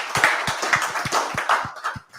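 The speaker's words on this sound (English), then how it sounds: "let's have a huge round of applause for Daniel" After a meetup talk, an audience gives a short round of applause, with fairly sparse, distinct hand claps over about two seconds that fade out at the end.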